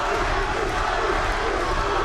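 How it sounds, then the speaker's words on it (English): Arena crowd roaring at the Torres vs Husseini fight, a dense loud continuous cheer filling the space with no break. "Listen to this crowd, would you?"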